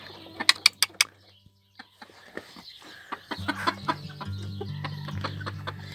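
Sebright bantam hens and a small rooster cluck and coo in short, irregular bursts, several loud close calls early on, then quieter chattering over a steady low hum.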